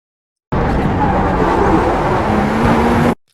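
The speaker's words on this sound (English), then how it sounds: "You're gonna hear the engine of the car." Race car engine at Sebring held at a loud, steady high-rev roar for about two and a half seconds, starting and cutting off abruptly, with a sustained tonal drone throughout.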